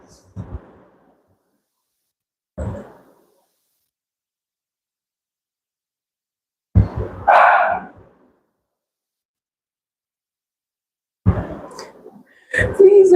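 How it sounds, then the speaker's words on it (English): A dog gives several short, scattered barks with long silent gaps between them, moderately close, with a few louder yelps near the end. "I don't know why she barks so much."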